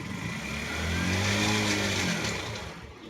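A Kawasaki NS160 engine with a damaged, worn crankshaft runs and revs up then settles over about three seconds, a rough droning mechanical tone heard alone at moderate distance.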